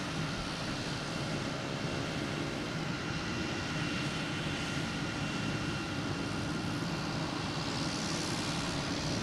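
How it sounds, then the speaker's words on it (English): A Delta Embraer E175 jet at Boston Logan Airport, heard as a steady, broad engine roar that stays loud and continuous throughout, with no talk. "This is a Delta heading to LaGuardia. E175."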